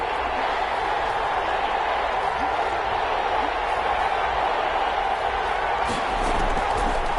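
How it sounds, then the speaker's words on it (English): A stadium crowd roars steadily in a PS4 football video game during a big third-down play, a dense, continuous wash of cheering with a faint rise near the end. "the crowd getting into it as we come up on a big 3rd down"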